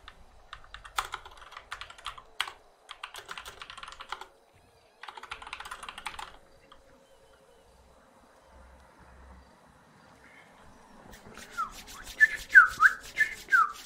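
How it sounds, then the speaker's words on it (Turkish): Bursts of computer keyboard typing, close and crisp, arrive in several quick clusters of keystrokes separated by pauses, during a gaming session for a bank heist plan; a louder, denser flurry of clicks ends the stretch. "Klavye sesim fazla geliyor."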